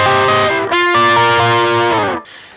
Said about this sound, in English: same level of distortion, same level of dirt and crunch